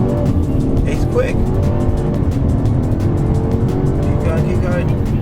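A Mercedes C300 AMG Line accelerates flat out, its engine note climbing steadily and loudly through the gears for the whole stretch, with some tyre noise and a voice partly under it.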